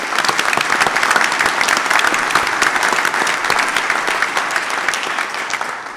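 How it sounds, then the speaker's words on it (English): An audience at a conference award presentation applauds the judges, sustained dense clapping from a sizable crowd, loud and steady for several seconds before easing slightly at the end. "how about a round of applause for the hard work?"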